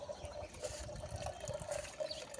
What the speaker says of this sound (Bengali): এই কিচেন ওয়েস্টের জলটা এখানে যা জল ছিল সব বেরিয়ে গেল